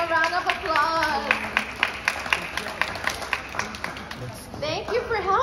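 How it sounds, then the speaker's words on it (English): An audience at a musical storytelling session claps in a brief round of applause, steady rhythmic claps under an adult speaking and a voice. "Let's give him a round of applause."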